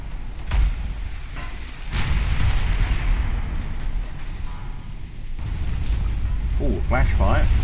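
Naval battle explosions and gunfire in Ultimate Admiral Dreadnoughts, with deep booming blasts and rumbling ship flash-fire detonations that roll continuously, loud and close, while someone speaks over the din.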